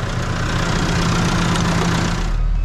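A tractor engine idles loud and close on rough, hilly ground during hay baling, with a constant low rumble and a steady mechanical chug from start to end.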